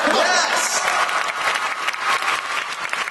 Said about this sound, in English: Yeah, go ahead, clap it up.